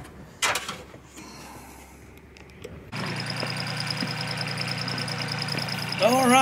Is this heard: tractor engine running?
yes